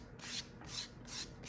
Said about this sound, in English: we just sand these out